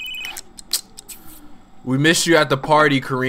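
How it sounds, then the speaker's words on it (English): A phone rings in The Sims 3 with a short electronic chime near the start. The ring is followed by a sparse patter of small game sounds, and then a clear voice talks over the end. "Answer the phone."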